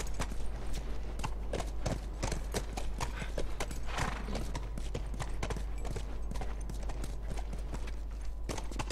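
Horse hooves clip-clop at a steady walking pace in the video game The Last of Us on PS4, a close, rhythmic series of hoofbeats over a low constant hum, with no voices.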